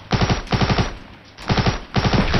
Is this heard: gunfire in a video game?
yes